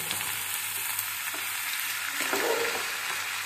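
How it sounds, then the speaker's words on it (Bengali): Tomatoes and other ingredients fry in a pan with a steady, close sizzle and soft stirring scrapes, continuous throughout with no voices. "সব দিয়ে ফ্রাই করব।"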